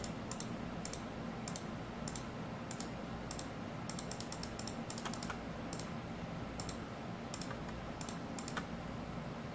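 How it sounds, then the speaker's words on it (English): A computer mouse clicks repeatedly at an irregular pace, short crisp ticks, while a 3D character's clothing is edited in software. It sits quietly over a steady background hiss, with no talking. "So we can kind of just keep clicking on the problem areas."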